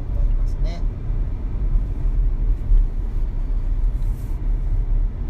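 Steady air-conditioning blower and cabin hum inside a Peugeot 3008 SUV while driving, a dense low rumble that stays loud and even throughout, with no voices.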